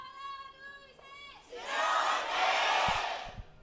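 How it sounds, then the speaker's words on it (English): At an LCK Spring Split League of Legends match, Jin Air fans in the arena swell into a loud, sustained roar of cheering and shouting after a brief tonal cue fades. "The Jhenair faithful are here to cheer."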